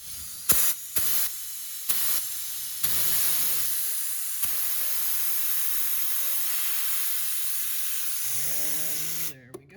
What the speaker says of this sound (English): just hook up the air compressor and then run these gauges here